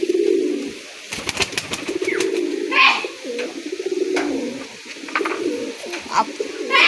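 Gola chap pigeons coo repeatedly in low, throaty rolls, close by, broken up by sharp clicks and clattering handling noises, with no speech.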